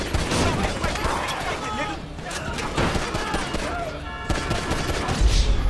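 Rapid bursts of gunfire from shotguns and automatic weapons in a GTA V shootout at a cabin, dense and continuous across the whole stretch, with voices talking over the shooting.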